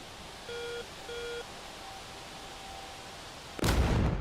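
A small bomb explosion in DCS World during an aerial attack over Syria: a sudden broad burst near the end, preceded by two short electronic warning beeps and a faint tone over quiet background hum.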